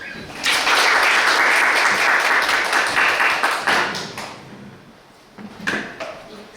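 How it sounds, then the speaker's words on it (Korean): An audience applauds to welcome a guest lecturer at a university industry lecture, loud dense clapping rising quickly and holding for about three seconds before thinning into scattered claps with a brief late swell. "큰 박수로 환영해 주세요"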